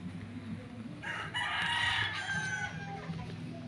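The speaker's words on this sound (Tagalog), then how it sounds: "mga panabong po ang nilalagay na manok." A fighting cock crows on a farm lot with fruit trees in Dolores, Quezon: a single drawn-out crow at moderate distance, rising over low steady background noise and then fading.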